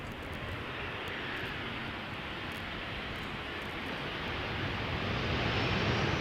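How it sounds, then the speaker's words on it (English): A KLM Boeing 737 on flight 1006 from London arrives at Schiphol, its jet engine rumble faint at first and swelling gradually louder as it approaches, alone without voices. "737 arriving from London."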